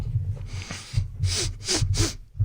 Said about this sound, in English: I'm sniffing everywhere